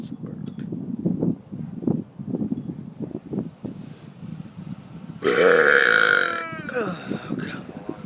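A man's loud, drawn-out burp, close and raspy, runs for about a second and a half before trailing off into speech, with steady talking before it.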